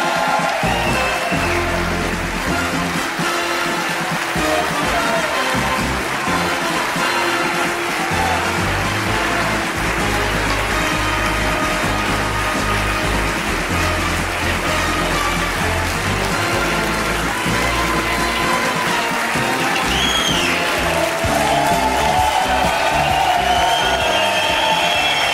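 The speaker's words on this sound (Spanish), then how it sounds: "un aplauso para él." A theatre crowd at a comedy monologue applauds and cheers as a guest is welcomed on stage, a loud, sustained mass of clapping and crowd noise lasting throughout, with music-like tones underneath.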